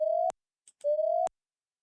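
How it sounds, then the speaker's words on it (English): A synthesized square wave ring-modulated by a sine wave plays twice as a steady buzzy, noisy tone, each burst about a third of a second and ending in a sharp click. A faint blip sits in the short silent gap between them. "the square wave just sounds kind of noisy once it gets ring modded by the sine wave"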